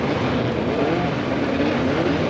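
Production race cars stream past on a warm-up lap at Shamrock Park, Portadown, their engines blending into a loud, continuous, close roar.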